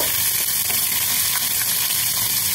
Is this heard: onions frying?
yes